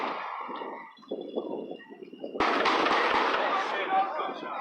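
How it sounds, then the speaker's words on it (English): Several sharp gunshots ring out in a city block during a night street protest in Kenosha, August 2020, a cluster of cracks following crowd voices and shouting. "Those were actual gunshots."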